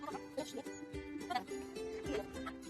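A small flock of geese gives several honking, clucking calls overlapping at close range, with steady harmonic cries and brief bursts.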